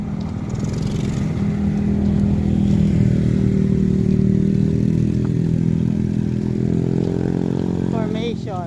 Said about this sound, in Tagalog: Tsaka eto oh, may mga motor.